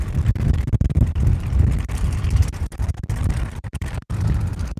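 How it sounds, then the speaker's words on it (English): Strong wind blasts across an open river intersection where two rivers meet, a constant loud rumbling buffet on the microphone with gusting surges and brief dips, with no talk. "It's really windy here."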